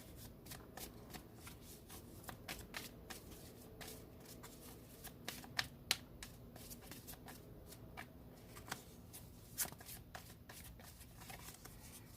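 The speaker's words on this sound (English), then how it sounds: "This deck is my hardest deck to shuffle," Tarot cards shuffled from a stiff, hard-to-shuffle deck, giving a steady run of soft riffling and slapping bursts close by for about twelve seconds, with a few sharper snaps, quiet and alone without talk.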